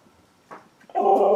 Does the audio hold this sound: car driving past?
no